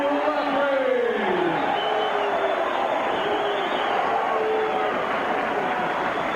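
Large crowd of more than 7,000 at a boxing arena, a steady roar of cheering and murmur with occasional whoops and a loud swell near the start, holding at an even level throughout.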